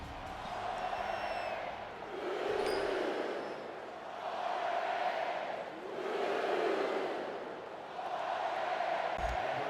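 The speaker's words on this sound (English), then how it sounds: "you can feel the thunder in the crowd as they await the start of this game" Stadium crowd roar in the NCAA 14 college football video game before kickoff, a continuous loud broadband rumble swelling and ebbing in waves about every two seconds.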